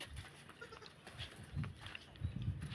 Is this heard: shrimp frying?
no